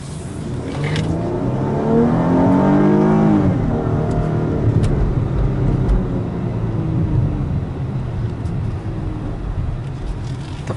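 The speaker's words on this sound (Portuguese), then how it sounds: "o motor fica acelerado" A Chrysler 300C John Varvatos special edition with a 3.6L 24-valve V6 and AWD revs hard, rising to a loud peak and then settling into a sustained fast idle, close by with no talk.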